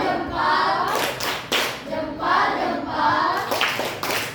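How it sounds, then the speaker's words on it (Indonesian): Schoolchildren in a classroom perform a rhythmic clapping chant, with sharp hand claps in patterned groups under loud sung or chanted voices. "Tepuk salut."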